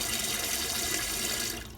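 Water runs steadily from a non-electric bidet toilet attachment, a continuous hissing flow at moderate level that tapers off slightly at the end.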